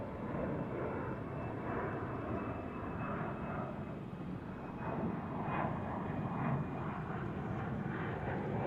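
An Aeromexico Connect Embraer E190 jet at Dallas/Fort Worth airport gives off a steady, distant engine roar that holds evenly throughout with a broad, low rumble and no voices.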